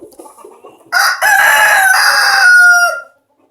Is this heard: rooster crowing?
yes